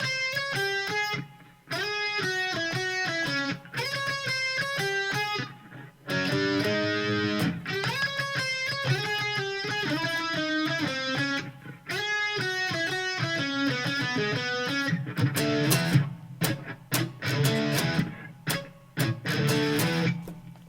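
Electric guitar plays the closing stretch of a solo: loud, distorted, busy runs of bent and repeated notes, with short pauses between phrases and no talking.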